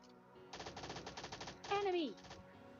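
Automatic gunfire in the PUBG Lite battle royale game: a rapid burst of about a dozen shots, then a louder sweeping effect with a falling tone, with quieter game sounds around it.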